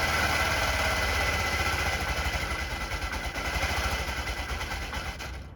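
A two-stroke Honda Elite 80 scooter engine runs steadily at a loud, even idle with a buzzing, rattly rhythm, close by and continuous, without throttle changes, faintly thinning at the very end.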